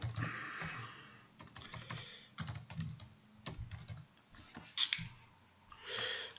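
Someone types a file name on a computer keyboard, a close, quiet run of irregular key clicks and taps for several seconds.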